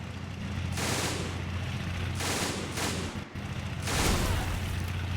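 Gunfire in the Army Men: Plastic Wars video game: dense, loud bursts of rapid shots and booms overlapping one another in a sustained battle din with no pauses.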